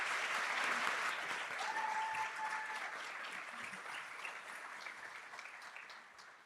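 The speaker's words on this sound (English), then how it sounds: "let's give them a round of applause" Steady audience applause at an education awards ceremony honoring school educators, a continuous dense wash of many hands clapping that holds level and tapers off slightly near the end.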